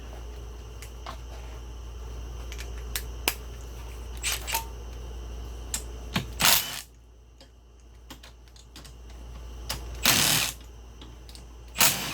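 A 12mm socket ratchet with an extension loosens the four handlebar bolts on a KE102 motorcycle front end, giving quiet clicking pawl runs, scattered metallic taps and a few louder clanks over a steady low hum, with no voices.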